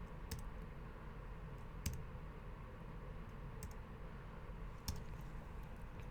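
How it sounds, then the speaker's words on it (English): Sharp, isolated clicks from a single key being pressed on a computer keyboard, a few taps spaced a second or more apart against a quiet background hum. "and I hit the backslash key on my keyboard"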